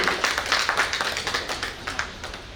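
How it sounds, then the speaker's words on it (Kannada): A small crowd claps steadily for a couple of seconds at a shop grand opening, moderately loud, with no voices standing out. "ನಮ್ಮೆಲ್ಲರ ಪರವಾಗಿ ಕೈ ಚಪ್ಪಾಳೆ"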